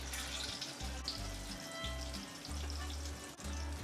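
Ridge gourd fritters frying in hot oil in a pan, a continuous soft sizzle with faint watery bubbling, fairly quiet and without any voices.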